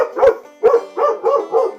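Several dogs bark in short, sharp bursts, five barks with gaps between them, fairly close and loud outdoors on a farm where pigs are being worked.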